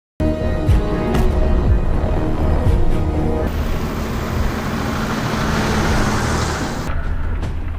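A car following a truck in a 2022 action film scene, continuous engine drone and road rumble at close range, with the tone shifting midway as the scene cuts.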